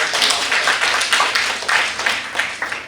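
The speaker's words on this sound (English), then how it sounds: "Give a warm round of applause." Audience applause at a World Tourism Day event as a presenter is welcomed to the floor: steady, dense clapping from a crowd, moderately close and even throughout, with no talking over it.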